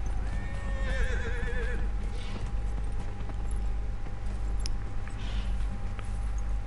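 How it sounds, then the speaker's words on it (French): A horse whinnies in the Dragon Age Inquisition video game while its hooves clip-clop steadily over a constant background rumble, with no talk. "comme vous pouvez le voir, j'ai pris à cheval"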